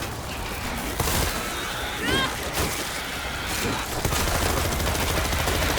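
Bursts of gunfire crackle through a World War Z co-op fight, sharp shots and rattling volleys layered over a constant din of battle noise.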